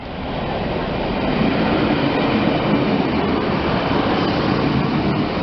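A Class 153 diesel train, unit 153 326, passes the Lincoln Central level crossing with a loud, close, continuous roar and rumble. The sound swells within the first half second and then holds steady.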